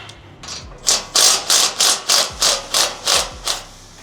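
A ratchet loosens bracket bolts on a Toyota FJ front bumper frame bracket, giving about nine close, crisp bursts of clicking in a quick, regular rhythm with no talk.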